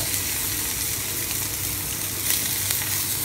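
Burgers sizzle and spit steadily in a hot pan as they are flipped, a loud, continuous frying hiss with a few sharper crackles and no talking.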